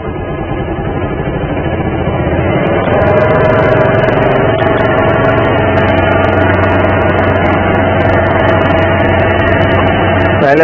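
A Bajaj Pulsar 150 motorcycle engine runs during tuning in a workshop, a loud continuous rough hum that is revved up and held at higher rpm, with faint clicks over it.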